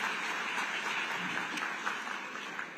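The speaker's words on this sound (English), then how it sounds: "Another round of applause for him as he takes his seat." A hall audience claps steadily for a Deputy Minister returning to his seat at a youth business forum, a dense continuous patter of many hands at moderate distance, without voices.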